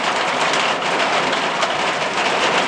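Steady rain pours down on a homestead rabbit yard as a dense, even broadband hiss that stays loud and unbroken from start to finish, with no voices over it.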